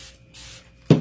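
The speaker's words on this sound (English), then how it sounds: "Spray this." Spray bottle of water used to wash off etching cream, a quick faint hiss followed by one short, louder burst.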